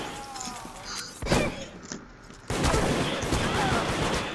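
Shotgun blasts in the game Deceit, a few sharp bursts followed by a thicker spell of loud gunfire and thuds, close and busy, with no clear talk over it.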